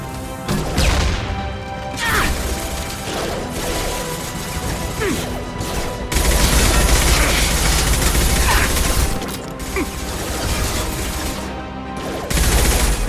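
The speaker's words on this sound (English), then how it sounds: "Firing a high-impact shot." Heavy gunfire and impacts from the video game Mass Effect 2 fill a dense, loud battle soundscape, with sustained volleys and booms that swell and drop over the firefight.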